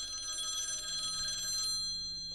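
Electronic telephone ring in the video game The Last Dead End, a steady bright trilling tone repeating for about two seconds before cutting off, with a faint low hum continuing underneath.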